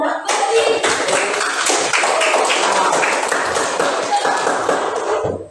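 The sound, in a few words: class applauding group 1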